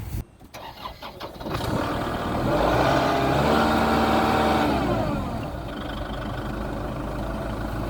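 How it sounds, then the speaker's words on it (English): A tractor pulling a subsoiler that lays underground cable or pipe starts up with a clatter, then its engine revs into a loud sustained roar before easing back to a steadier running drone. "So I'll drive the tractor and we'll see how it goes"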